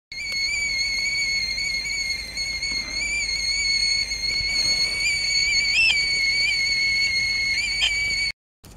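A kettle on a small hobo stove whistles steadily and shrilly outdoors, a sustained high tone with a few brief wavers, running for about eight seconds before cutting off abruptly.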